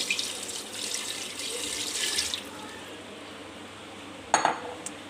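Water pours steadily into a pressure cooker while a mutton yakhni is being made, a close hissing splash that stops after a couple of seconds, followed by a short metallic clink.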